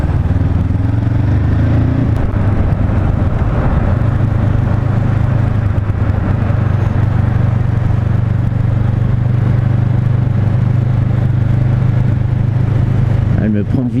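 A 2019 Honda CB 500 F motorcycle engine drones close and loud while riding, with a gear change early on and the steady running note continuing under wind rush.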